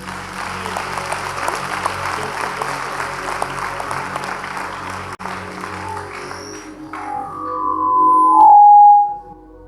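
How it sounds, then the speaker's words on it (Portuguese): A church congregation claps together in loud, dense applause for several seconds. It dies away near the end, and a sustained tone, like microphone feedback, swells up and cuts off. "Vamos dar uma salva de palmas para ele."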